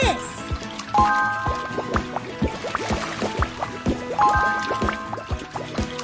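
Cartoon water pouring and dripping as soap is rinsed off dishes, a ladle and a plate, with bright splashy drips and trickles in a steady rhythm, voices talking over it.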